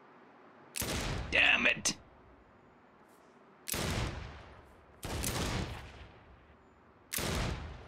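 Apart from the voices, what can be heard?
gunfire in Saints Row video game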